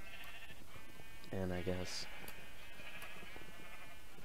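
A sheep bleats once in a Minecraft-style game, a short wavering call close to the listener, while someone talks over it.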